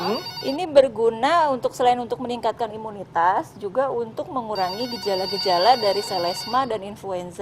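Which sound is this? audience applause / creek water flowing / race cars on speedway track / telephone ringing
telephone ringing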